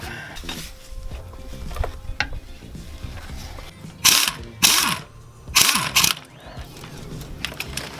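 A ratcheting wrench turns 14mm nuts on a Toyota Tacoma front differential, giving quick clicking ratchet runs, then several louder bursts of rapid metallic clicks close to the listener.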